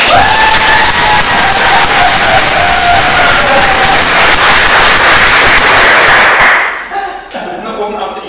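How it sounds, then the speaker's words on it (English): Edinburgh Fringe Festival audience breaking into loud, sustained applause and cheering, a dense roar of clapping and whoops filling the room for several seconds before cutting off sharply into quieter room noise. "So, a huge round of applause,"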